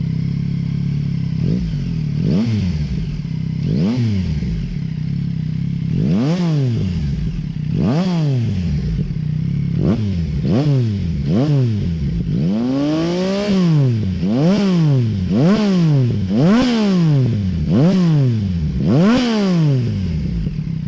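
A 2021 Yamaha MT-09 SP fitted with a MIVV GP Pro exhaust revs repeatedly, each throttle blip rising and falling in a steady series that quickens toward the end, loud and close with no talking.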